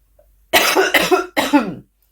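A person sick with a cold gives three close, loud coughs in quick succession after a brief quiet moment, with no talk.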